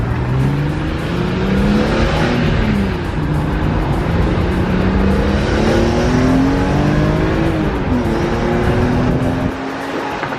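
BMW E46 M3 with an upgraded Vanos unit accelerating hard on a test drive, its loud engine note rising through the gears in several pulls with audible shifts, close and continuous, with no talking.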